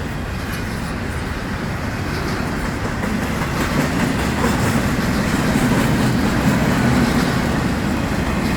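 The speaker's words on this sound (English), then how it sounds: "Big, long, beautiful train. Look at this thing, just chock-a-block, double stack." A long, heavily loaded FEC double-stack freight train rolls past close by, a steady broadband rumble and rattle of wagons that holds and swells slightly throughout with no pauses.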